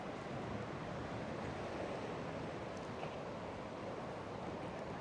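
Ocean waves surge in against the rocks at a fishing port lookout at sunset, a steady broad wash of surf with wind buffeting the microphone, continuous and fairly loud with no voices.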